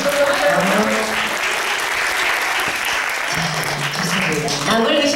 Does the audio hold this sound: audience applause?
yes